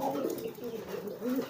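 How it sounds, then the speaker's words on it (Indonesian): A pigeon coos softly at the end of its courtship cycle, a low throaty rolling coo repeated in quick succession over a faint background, close and alone with no talk. "kalau merpati itu habisnya siklus giring, biasanya kebanyakan ngeblekur seperti ini nih"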